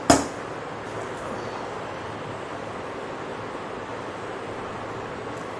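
Onions sauté in oil in a pan for tomato chutney, making a soft, steady, even sizzle that carries on alone after a brief clatter at the start.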